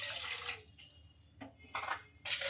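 Water is poured from a cup into a kadai on the stove in short, gushing bursts separated by quiet pauses, close and fairly soft.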